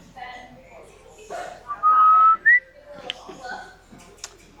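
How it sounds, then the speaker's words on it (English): A person gives two short, clear whistles, a steady tone followed by a brief rising one, amid quiet talking voices at an outdoor drift event. "someone was just whistling."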